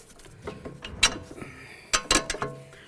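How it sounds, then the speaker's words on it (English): Metallic clicks and short ratcheting bursts come from a wrench removing the upper bolt from the steering knuckle of a 2011–2016 Hyundai Elantra during a front wheel bearing job, close and irregular, with quiet gaps between. "Now we can remove our upper bolt."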